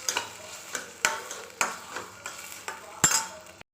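Potato masala being sautéed and stirred in a pan, with a spoon scraping and tapping the pan in irregular strokes over a light sizzle, close up and moderately quiet.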